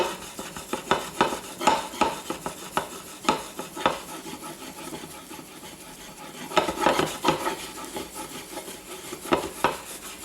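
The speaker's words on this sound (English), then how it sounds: "I use a bowl because I can really start mixing in this flour a lot easier" Fork scraping and stirring flour into fresh egg pasta dough in a bowl, with irregular clinks and rasping strokes against the sides, close and fairly quiet, and a brief pause midway.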